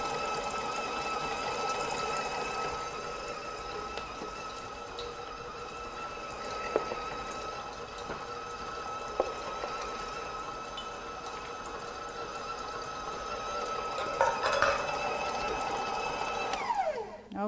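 An electric hand mixer whips cupcake batter for red velvet cupcakes at high speed, a steady whirring motor drone with faint occasional clinks of beaters against the bowl.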